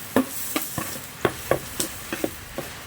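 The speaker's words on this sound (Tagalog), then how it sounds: "Sasayawan natin yung ating nilutong ginisang talong." Ginisang talong, sautéed eggplant, stirred in a hot pan, with a series of short scraping stir strokes over a faint steady sizzle, close and fairly quiet, no talking.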